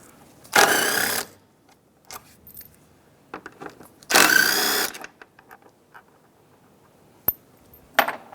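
A ratchet wrench backs out 10 mm bolts on a 2007–2015 Mazda CX-9 fresh-air intake. Two loud, sustained bursts of rapid clicking are separated by scattered small metallic taps and clinks, close up.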